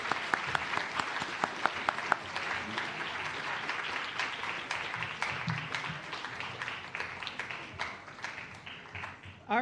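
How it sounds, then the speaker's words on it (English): A conference audience at the Design for Change Malaysia/Singapore 2024 event gives a speaker a long round of applause, many hands clapping steadily and crisply at close range, with some talk underneath. "Please, one more round of applause for our esteemed speaker."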